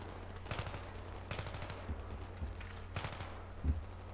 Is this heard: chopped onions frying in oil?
no